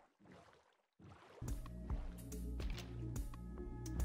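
Boat moving across water in the Minecraft video game, with a steady sloshing, paddling-like sound that starts after a short quiet gap and continues with rhythmic pulses to the end.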